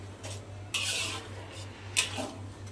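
Scraping and clattering of a spatula against a pan while sautéing blended sambal spice paste until the oil separates, a few brisk strokes with short pauses, close by and fairly quiet.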